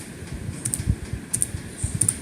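Quick, irregular keystrokes on a computer keyboard while entering a web search, close and crisp, a steady patter of light clicks with no voices.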